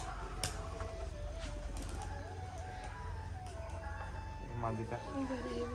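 A male and a female display pigeon coo together, soft repeated calls set against steady background hum, with thin tonal chirps and a brief flutter near the end.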